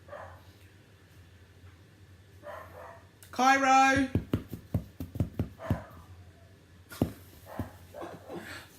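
Dogs let out a high whining yelp that breaks into a quick string of sharp barks and yips nearby, with a voice calling out and talking over and around them.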